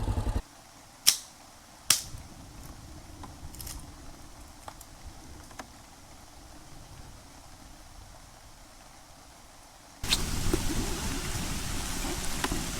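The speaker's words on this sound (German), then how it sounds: "Draußen regnet es richtig." Heavy rain outdoors heard faintly from indoors as a soft, steady hiss with a couple of sharp knocks early on, then swelling into a louder, rougher wash near the end.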